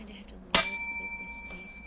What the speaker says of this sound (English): here is the failure bell